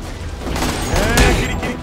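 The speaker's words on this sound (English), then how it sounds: "Hey, don't try to shoot at me." Enemy gunfire in The Amazing Spider-Man 2 video game bursts in a dense, rattling fusillade with booming hits, loud and close throughout the short stretch.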